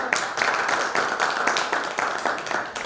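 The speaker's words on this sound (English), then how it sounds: "Let's give them a round of applause." Audience applause at a panel discussion on democracy and governance, a dense, steady wash of many hands clapping close by, with individual claps standing out.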